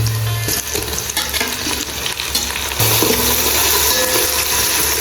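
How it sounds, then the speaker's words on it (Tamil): Onions and tomatoes frying in oil for homemade chicken mandi biryani, a loud, continuous sizzle broken by the scrape and clatter of stirring in the pan. "வெங்காயமும் தக்காளிக்கும் நல்ல ஒயிலில் இப்படி நல்லா வதங்கின போகிறோம்"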